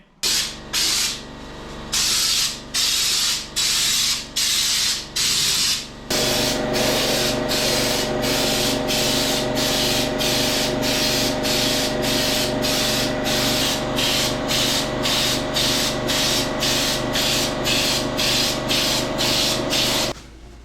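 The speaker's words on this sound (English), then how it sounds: "And then we're going to start spraying." A spray gun spraying bed liner onto a mini truck hisses in short bursts at first, then runs in a long continuous spray with rhythmic pulsing, loud and close.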